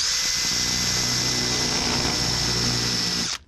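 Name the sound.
power drill drilling out slot head screws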